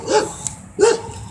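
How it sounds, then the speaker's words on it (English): A dog barks loudly and close by in South Texas, giving two sharp barks about half a second apart with no talking over them. "There's a freaking bitch ass dog that don't know how to shut the fuck up."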